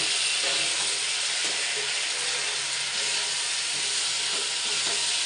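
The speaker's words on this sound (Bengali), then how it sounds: "আলুটা দিয়ে একটু কষিয়ে নেবো" Potatoes frying in spice masala, giving a strong, steady sizzle with soft periodic scraping of a spoon, heard close up and free of speech.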